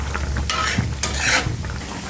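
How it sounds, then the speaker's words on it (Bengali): Green chillies and garlic being stirred as they fry in a pan: a close, loud sizzle broken by two or three quick scraping strokes of a utensil. "নাড়া দিয়ে দেব।"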